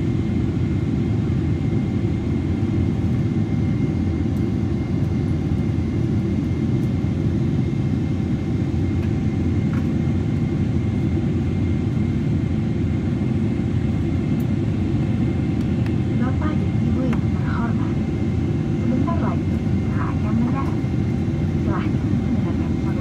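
Garuda Indonesia Boeing 777-300ER on approach to Los Angeles, heard from inside as a continuous loud low cabin roar of engines and airflow, steady throughout with faint scattered cabin sounds near the end.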